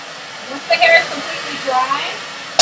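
A hair dryer blowing hot air on hair during styling, a constant loud whooshing hiss throughout, with a voice talking over it.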